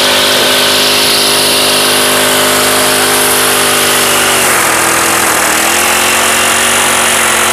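An engine held at a fixed raised throttle drones loud and steady with a constant pitch, dips briefly partway through, then settles back into an even hum.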